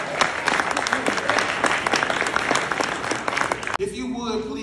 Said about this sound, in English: we clap for that.